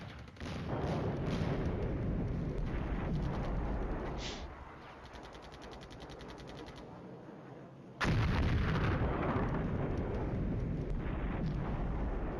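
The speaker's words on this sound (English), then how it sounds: "these guys are going to deserve the artillery I hand them" Heavy artillery fire in the wargame Flashpoint Campaigns Red Storm, loud sustained rumbling barrages of booming impacts that swell, ease back, then surge again near the end, with no voices.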